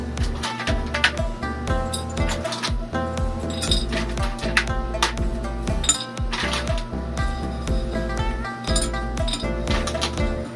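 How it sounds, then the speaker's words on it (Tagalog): Dry ice goes into a glass jar for a sublimation experiment, producing a close, busy stream of bright clinks and tinkling knocks against the glass that runs throughout. "ilagay natin yung dry ice dito sa jar."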